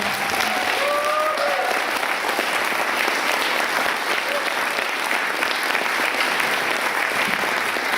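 An audience applauds panelists at the close of an IPCC forum session, a steady, dense wash of many hands clapping that holds evenly for the whole stretch, with no talk over it.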